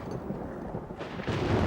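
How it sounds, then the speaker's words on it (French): Thunder rumbles from a storm, a low dull roll that swells and grows louder toward the end, with no voices. "On va prendre le raccourci au-dessus de la falaise. Si on se dépêche, on évitera l'orage."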